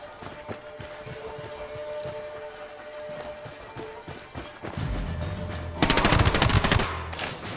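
Gunfire in the video game Ghost Recon Wildlands: scattered distant shots over steady ambient noise, building into a dense, loud burst of automatic fire near the end.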